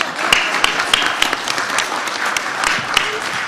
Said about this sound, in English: Please give the panelists a round of applause.